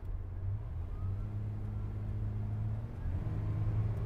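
A one-owner, all-original Chevrolet S10 pickup with 71k miles pulls away under hard throttle, its low engine drone rising steadily in pitch over four seconds, close and continuous with no talking.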